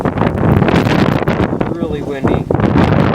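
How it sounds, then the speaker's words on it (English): Strong wind buffets the microphone outdoors beside a Johnson 4 hp outboard motor, a loud, continuous rumbling roar with gusty swells that persists through the whole moment. "Really windy."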